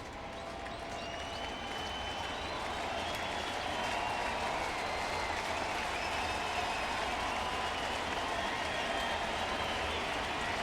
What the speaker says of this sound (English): Crowd showing some energy.